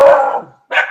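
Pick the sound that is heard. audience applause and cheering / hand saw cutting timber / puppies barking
puppies barking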